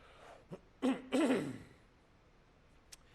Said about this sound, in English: Oh, excuse me, I got to clear my throat.